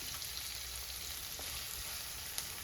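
Onions and curry leaves fry for a Kerala-style sardine curry, making a faint, even sizzle that crackles continuously, quiet and unbroken by talk.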